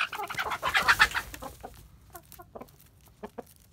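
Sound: gamefowl rooster clucking

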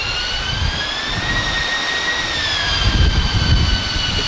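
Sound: EAV-8B Harrier jet with Rolls-Royce Pegasus vectored-thrust turbofan

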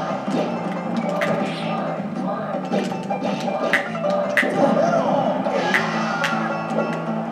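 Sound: crowd cheering in a Super Smash Bros video game

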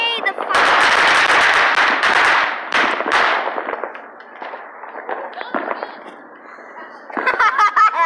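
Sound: fireworks going off

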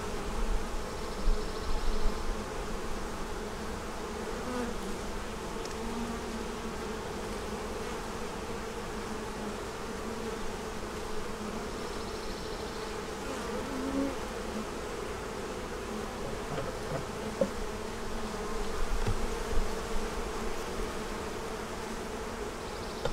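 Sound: honeybees buzzing around an open hive

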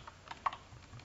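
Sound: computer keyboard typing, pressing backspace

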